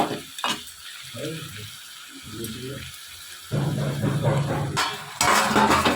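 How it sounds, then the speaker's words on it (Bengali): Mutton stir-fried in a pan for kosha mangsho, with steady sizzling and scraping stirs that grow louder and denser toward the end, heard up close on its own. "এবারে ভাজা ভাজা হচ্ছে।"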